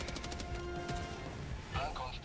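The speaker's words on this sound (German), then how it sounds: "Da waren jetzt Schüsse" Gunfire from the video game Helldivers 2, a rapid burst of dense shots at the start and scattered cracks after, under people talking.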